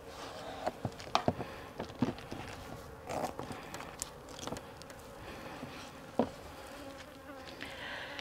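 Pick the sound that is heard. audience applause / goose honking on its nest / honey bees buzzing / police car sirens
honey bees buzzing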